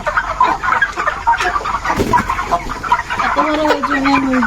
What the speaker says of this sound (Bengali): কিন্তু আমি মুরগি ধরতে পারি না